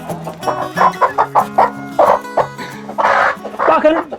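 Chickens cluck close by in a busy, irregular rhythm as an older hen chases newly added birds in a coop, with squawks and a dog's whimpering mixed in over background music.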